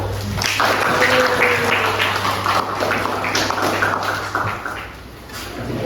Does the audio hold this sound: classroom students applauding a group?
yes